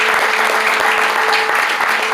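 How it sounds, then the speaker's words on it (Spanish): A church congregation claps loudly and steadily during an afternoon service, a dense unbroken wash of applause filling the room for the whole stretch. "¿Se atreve a darle otro aplauso fuerte a Dios esta tarde?"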